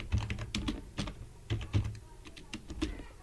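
Someone types a watermark name on a computer keyboard in Canva. Close, clicky keystrokes come in short irregular bursts with brief pauses between them, and nobody speaks.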